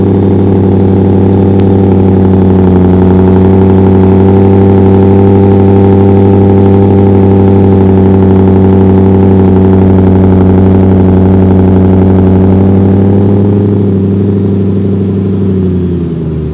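The 5.2-liter supercharged V8 of a 2025 Ford F-150 Raptor R runs loud and close as a deep, steady drone for most of the span before it settles and drops off near the end, with no talk.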